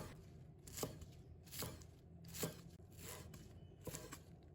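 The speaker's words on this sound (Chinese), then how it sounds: "接下来准备一把小葱，把它切成小段" A bunch of green onions is cut into short lengths with a knife on a board, five quiet, evenly spaced chops, each a crisp thud, with no voices.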